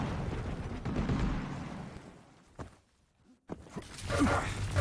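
Rockets fire and explode in a Quake Pro League match, producing rumbling booms and blasts that drop to near silence midway before a sharp burst brings the explosive noise back.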